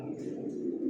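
Pigeons resting in a loft give a brief, soft, low cooing murmur, close and continuous.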